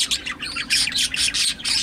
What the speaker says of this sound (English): This bird is relentless.